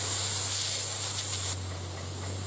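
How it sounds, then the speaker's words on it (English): Water sprays hard from a just-cleared line, a steady, loud, close hiss with a low hum beneath, dropping slightly in level partway through. "it's spraying good now"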